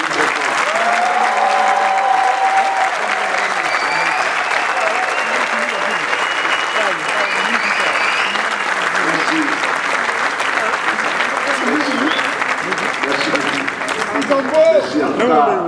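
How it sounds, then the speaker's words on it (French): A comedy one-man-show audience in a theatre bursts into sustained, loud applause, a dense wash of clapping that carries steadily for about sixteen seconds with some crowd noise mixed in. "je demande de vous applaudir très fort."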